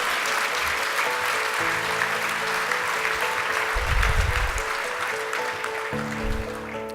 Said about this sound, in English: of course, go ahead, clap